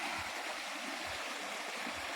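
A river flows beside a rural yard, giving a continuous, even rush of moving water with no breaks, close and fairly loud.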